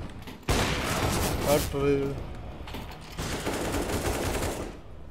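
Gunshots in CS:GO: loud bursts of rapid fire come in two clusters separated by a short lull, with a brief spoken phrase in between.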